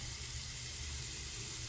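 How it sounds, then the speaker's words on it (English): Warm tap water runs steadily from a faucet over hands being rinsed at a sink, a continuous close splashing hiss with no talk. "rinse well with warm water."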